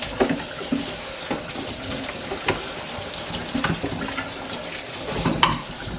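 Kitchen tap water runs steadily into a sink while strawberries are rinsed, a close, continuous splashing wash with small bumps and clatters of fruit being handled.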